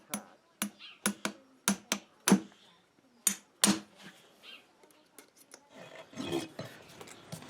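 A horseshoe is fitted back onto a horse's trimmed hoof with sharp, uneven hammer strikes and rasping scrapes, fairly close, spaced through the first half and then softer scraping and tapping toward the end.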